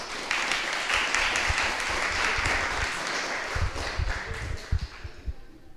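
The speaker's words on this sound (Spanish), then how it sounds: "por favor, démosle un aplauso a Andrés." An audience applauds at the opening of a game jam event, with dense, even clapping that holds for several seconds and then thins into a few scattered claps.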